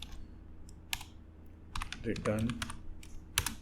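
Code being typed on a computer keyboard for a Laravel dropdown project: scattered bursts of quick clicks, then a denser flurry of keystrokes, with someone talking over part of it.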